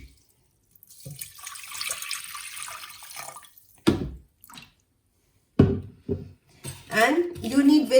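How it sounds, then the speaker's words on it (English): Tap water running into cooking pots on a kitchen stove, a hissing stream that starts and continues for a few seconds, followed by splashes and clatter with a person speaking over it. "fill the both pots with water"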